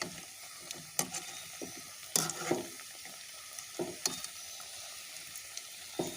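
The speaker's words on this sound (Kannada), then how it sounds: "ನಾವು ಸಾಧಾರಣವಾಗಿ ಈ ಗೋಲ್ಡನ್ ಬ್ರೌನ್ ಕಲರ್ ಬರುವವರೆಗೆ ಫ್ರೈ ಮಾಡಿಕೊಂಡ್ರೆ ಆಯಿತು" Wheat flour snacks deep fry in hot oil, a quiet bubbling sizzle broken by scattered sharp clicks and knocks of utensils, fairly close with no voices.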